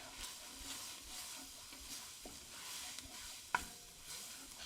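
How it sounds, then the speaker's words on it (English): Flour stirred into a soup pot for chicken and dumplings, a soft scraping swirl over a faint sizzle, with a couple of sharp clicks from the spoon against the pot near the end. "Give it a stir"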